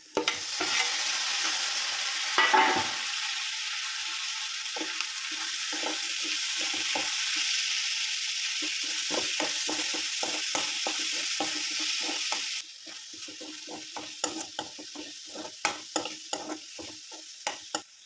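Tomatoes hit a hot frying pan for sausage roast, bringing a loud, steady sizzle and frying hiss that drops in level partway, with scattered stirring scrapes and clinks near the mic.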